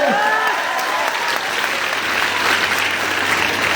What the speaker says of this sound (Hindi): एक बार जोरदार ताली आपके लिए।